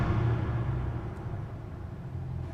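A 2023 Chevrolet Corvette Stingray in US spec sits in an underground garage, its engine giving a steady, loud low rumble that slowly eases off, with no voices over it.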